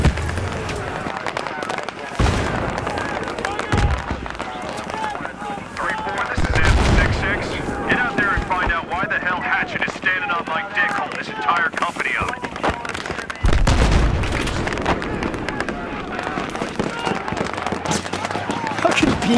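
Gunfire and explosions in Battlefield 3 on a tank mission, with bursts of shots and heavy booms coming in waves over about twenty seconds, loud and near, mixed with shouted voices.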